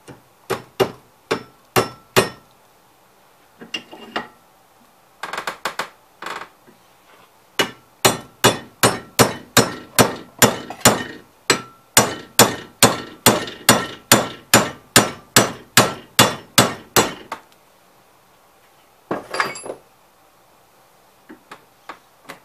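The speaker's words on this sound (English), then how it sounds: "Pound the first roll pin in." A hammer pounds a roll pin into the drive clutch of a 1969 Cub Cadet 126 held in a vise. Dozens of sharp, ringing metallic blows land close up in quick, steady runs, separated by short pauses.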